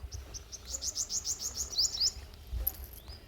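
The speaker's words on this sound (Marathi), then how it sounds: "आणि आपल्याला आवाज येतोय, खूप सारे पक्षी या ठिकाणी त्यांचा आवाज येतोय." Birds in a tomato field give a quick series of bright, repeated chirps followed by a few higher calls, over a soft outdoor background with faint insect buzz and no talking.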